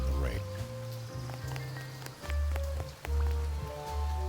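Steady rain falls in the Duck Detective video game, a soft continuous patter under a narrating voice and low background music.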